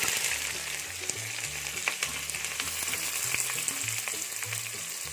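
Onions fry and get stirred in oil for mutton biryani, a steady bright sizzle over the whole stretch, with scattered utensil scrapes and a low background drone underneath.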